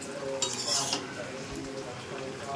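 Chutney being stirred in a pan with a little oil, utensil scraping and clinking against the metal in a short burst near the start, then softer scraping over a low background hum.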